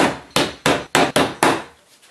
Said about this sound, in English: go ahead and hammer those nails in